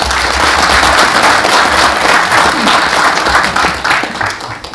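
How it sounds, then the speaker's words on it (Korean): A crowd at a year-end evening gathering gives loud, sustained applause to welcome a speaker, a thick, unbroken roar of clapping that ebbs slightly at the end. "큰 박수로 맞아주십시오."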